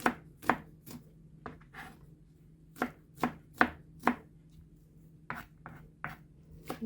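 A knife slices garlic into thin pieces on a cutting board, giving close, crisp taps in uneven clusters with short pauses and no talk.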